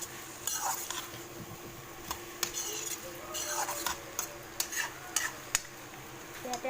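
A spoon stirs pumpkin and borali fish in a frying pan over a gas flame, with sharp clinks and scrapes against the pan over a constant soft sizzle, close and clear.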